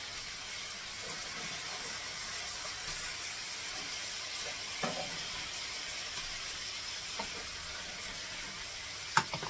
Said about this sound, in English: Now we're going to turn our pork chops, because we basically just want to brown each side